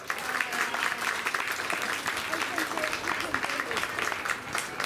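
Crowd applause at a youth sheep show at a county fair: dense, continuous clapping from a sizable audience, loud and even throughout, with a faint voice in the mix.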